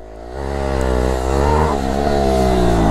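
A motorcycle revved hard for a wheelie on a road, close and loud, the engine note climbing and holding at a strained, buzzing high pitch for a few seconds.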